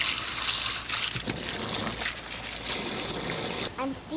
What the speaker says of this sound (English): Time to put some water in the pond.